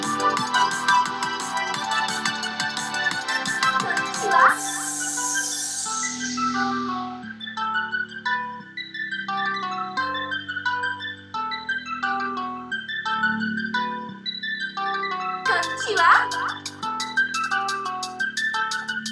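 Drum and bass track shifting from a dense, busy fast section into a sparser middle breakdown of deep bass notes and plucky synth tones, with a sweeping noise rise marking the change and the fuller texture returning near the end.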